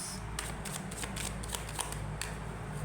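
Tarot cards are shuffled and handled from a deck in a quick series of crisp riffling flicks and snaps over a low steady background hum.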